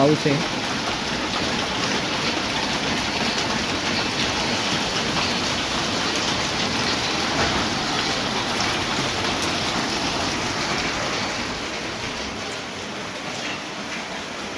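Steady, dense monsoon rain falling continuously in Nashik, a broad hiss of drops that stays even throughout and eases slightly near the end.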